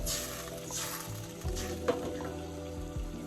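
A small splash of water poured into a hot cooking pan for broth sizzles and hisses faintly and steadily, with a few soft clinks and stirring sounds close by.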